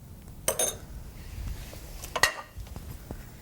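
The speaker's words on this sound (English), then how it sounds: "Let's get the skillet back out." A skillet is taken back out and handled in a barbecue cooking setting, giving two brief metallic clanks a couple of seconds apart against a quiet background.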